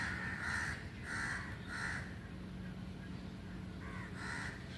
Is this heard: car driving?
no